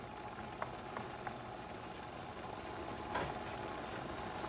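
Portuguese duck rice boils in a pot, making a faint, steady bubbling with a few soft pops scattered through.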